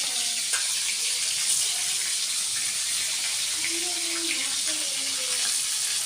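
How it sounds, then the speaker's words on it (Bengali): Water pours in a steady, soft hiss over spices for several seconds, close by, with no talking. "এবার জল দিয়ে এটাকে একটু ভিজিয়ে রাখবো"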